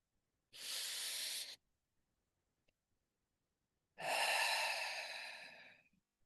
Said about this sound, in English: we're going to breathe in through the nose and out through the mouth with 3 deep breaths